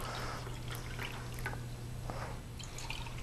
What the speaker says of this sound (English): To mix our yeast, we're gonna pour 6 glasses of water.